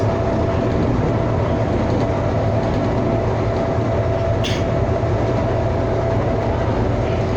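Inside a Calgary CTrain light rail Red Line car on a southbound run, a steady loud rumble of wheels and motor fills the cabin, with a brief hiss midway.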